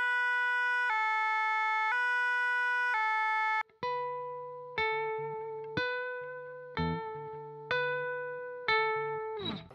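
A guitar imitates a fire engine siren: a steady alternating two-tone wail, then a string of separate plucked two-note hits that ring and fade one after another, played alone with no talk.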